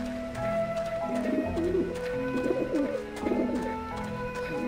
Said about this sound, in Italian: Avete visto il piccione?